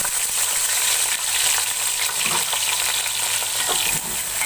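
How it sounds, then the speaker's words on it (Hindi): Long-sliced onions fry in a pot for mutton paye, producing a loud, continuous close sizzle with light scraping of stirring running through it, and no voices. "अब प्याज को मैं फ्राई कर लूंगी"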